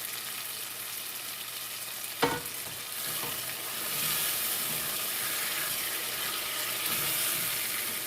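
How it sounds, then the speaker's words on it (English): Homemade meat broth is poured into a sizzling vegetable sauce: a sharp splash lands, then a steady hiss of frying and bubbling swells and continues, close and fairly loud, with no speech. "Let me add some meat broth."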